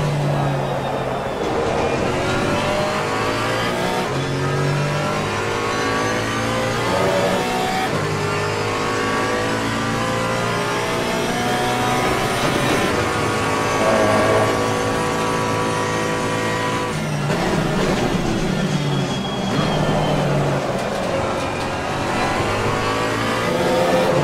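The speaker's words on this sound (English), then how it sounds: "a fairly good engine sound as well" A GT4 race car in Assetto Corsa Competizione runs a lap, its engine rising and falling in pitch through repeated accelerations, gear changes and braking, loud and continuous from start to finish.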